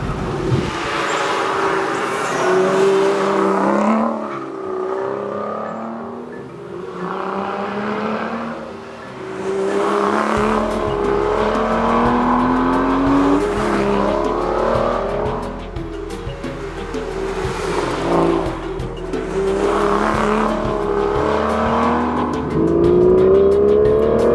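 A 2013 Aston Martin V12 Vantage with a manual gearbox is driven hard on winding canyon roads, its V12 revving up and down through repeated gear changes, loud and close throughout, with occasional tire squeal.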